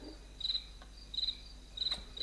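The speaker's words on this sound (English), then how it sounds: "watch out for the mosquitoes or whatever they are" Insect buzzing from mosquitoes in a DOS first-person shooter run through DOSBox on a Raspberry Pi 5, a faint steady drone broken by four short, evenly spaced chirping bursts, with no talk.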